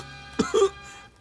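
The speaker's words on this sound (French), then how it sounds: "la toux d'Apple semble s'intensifier." An animated character named Apple, in a Starventures episode, gives two short, rough coughs close together, fairly quiet over a faint background hum.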